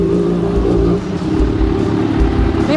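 A big motorcycle engine revs hard through a loud exhaust, a steady close roar with low pulsing bursts that carries on throughout.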